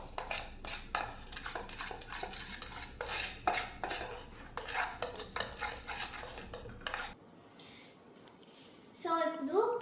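Rice flour being stirred in a bowl with a spoon, giving repeated scraping and clinking strokes in a quick rhythm that stops short, followed by a brief quieter stretch and someone speaking.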